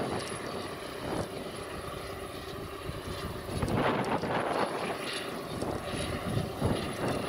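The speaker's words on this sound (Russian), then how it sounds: "Посмотреть, где тут наш трактор. Вот он идет." A tractor engine's steady rumble drones on throughout during earthworks by a pond, heard from a distance outdoors, with wind buffeting the microphone and the noise swelling midway.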